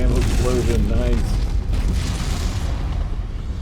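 Mech explosion in the MechWarrior 5: Mercenaries game, a deep, loud boom that rolls out under game radio chatter and a talking player, then trails off into rumbling noise.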